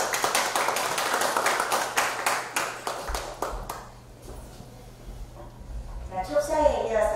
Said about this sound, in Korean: 다시 한번 큰 박수 부탁드리면서